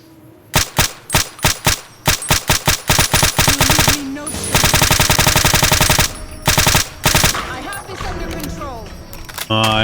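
Rapid automatic gunfire from a weapon in the video game Fallout New Vegas, loud sharp bursts of repeated shots, then a dense sustained stretch of fire, ending in fainter trailing shots.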